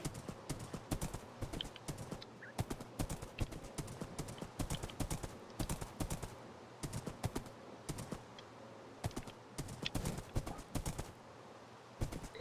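Horse hooves clip-clop steadily in Minecraft, a rapid run of close, crisp taps that keeps going throughout with no talking over it.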